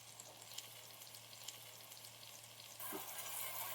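Brinjal and soaked, uncooked chana dal being sautéed in oil for a thokku: a faint, steady sizzle and crackle that swells louder and hissier near the end.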